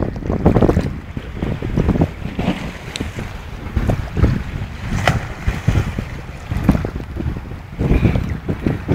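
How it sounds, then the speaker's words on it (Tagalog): Strong waves surge and break continuously on the Red Sea off Jazan, with heavy wind buffeting the microphone and a steady, rough, loud wash of water throughout. "Lakas na ng alon."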